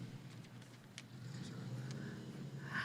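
A fancy car drives away from a spring college commencement ceremony, its engine a soft, distant hum that swells slightly as it pulls off, faint beneath the open-air ambience.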